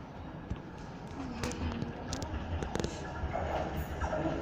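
A Docklands Light Railway train running at a platform, a low steady rumble with some faint clanks and a brief higher tone, heard under station chatter.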